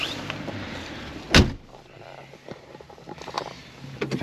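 A car door shuts with a solid thump during a road trip toward Serbia, followed by soft shuffling and small clicks as someone settles into the seat, with outdoor background noise throughout.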